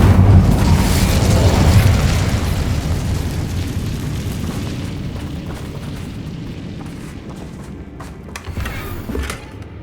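Incendio fire spell blast in the Hogwarts Legacy game, a loud booming whoosh of flame that swells for a couple of seconds and slowly fades into crackling and scattered small pops, with no talking.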